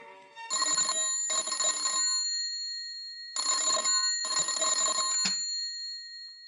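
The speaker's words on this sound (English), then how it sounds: "The next afternoon, the telephone rang in John Davis's office." An office telephone rings in a radio drama effect, two bursts of bright electric bell trills, then a short pause and two more, loud and close, alone with no talk.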